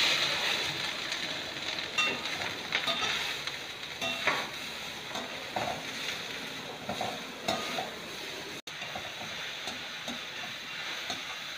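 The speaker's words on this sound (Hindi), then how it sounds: "पैन गर्म हो चुका है, मैंने इसमें घी डाल दिया है एक चम्मच। अब मैं डाल रही हूँ गाजर।" Carrots frying in a spoonful of ghee in a hot pan for carrot halwa, a steady sizzle broken by scraping and stirring knocks, with a brief dropout near the end.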